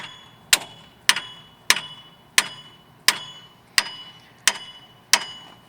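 Eight sharp metallic hammer blows ring out at a steady rhythm while a car strut is changed, each strike clanging loudly and then decaying quickly, with no talk in between.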